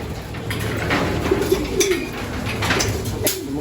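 Racing pigeon hens coo softly in a loft, low throaty calls repeating under a steady background hum, fairly close, with no talking.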